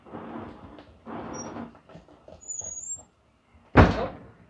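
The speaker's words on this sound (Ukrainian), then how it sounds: "двері закрились" A single sharp thud of a door blown shut by wind, loud and close, after a stretch of quiet speech and muffled rustling.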